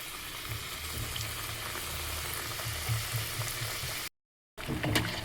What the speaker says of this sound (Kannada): ಸಮೋಸನ ಎಣ್ಣೆಯಲ್ಲಿ ಫ್ರೈ ಮಾಡ್ಕೊಳ್ಳೋಣ